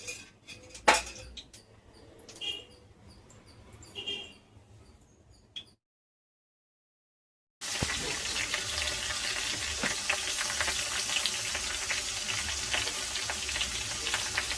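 Oil frying in a pan for ridge gourd chutney: a loud, steady hiss begins after a short silence and runs without pause, preceded by quieter clinks and kitchen handling.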